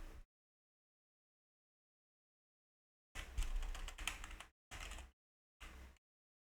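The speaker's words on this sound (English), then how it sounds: "Sorry guys, I'm typing." Bursts of clattery computer keyboard typing, close and fairly loud, in three clusters after a long silence, with no talking.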